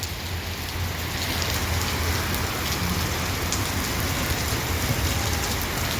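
Steady summer rain pours down outdoors during a school physical education class, a dense continuous hiss of drops hitting the ground, loud and unbroken throughout with no voices.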